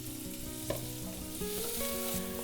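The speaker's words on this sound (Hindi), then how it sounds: "गैस को ऑन कर देंगे, थोड़ा सा डालेंगे ऑयल, बिल्कुल थोड़ा सा डालूंगी जीरा। अब डाल दूंगी अनियंस।" Onions frying in a little oil with cumin for a bhurji, making a soft, continuous sizzle with light stirring, quiet and close, with no voices.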